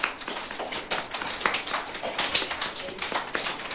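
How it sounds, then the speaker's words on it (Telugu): Children at a tuition programme clap together in loud, irregular bursts, with scattered overlapping claps and some voices underneath. "గట్టిగా క్లాప్స్ కొట్టండి అందరూ"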